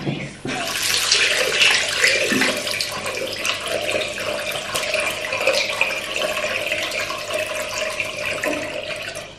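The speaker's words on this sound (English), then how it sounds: "Okay, let's wash my face." Water runs steadily from a tap into a sink during face washing, a loud continuous splashing rush that starts abruptly and holds without pause.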